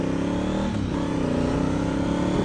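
A Honda Africa Twin motorcycle engine runs steady and loud up close, a continuous droning rumble with a slight rise and fall in pitch, and no voices over it.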